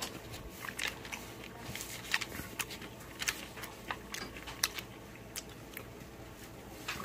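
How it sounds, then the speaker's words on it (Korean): Someone chews crunchy kimchi pancake made with frozen kimchi, with close, moist bites and crunches coming in an irregular rhythm, quiet but distinct against a still background. "아삭아삭 김치하고"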